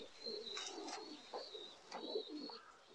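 Hybrid racing pigeons coo softly in a few repeated throaty calls, fairly close, with faint chirps and light background noise.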